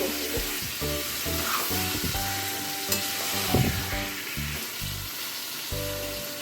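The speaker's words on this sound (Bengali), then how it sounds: "দেখুন মাংসটা কষছি আমি" Mutton with spices and onion being sautéed in a pot, a steady close sizzle with repeated scraping stirs and clanks throughout, no one speaking.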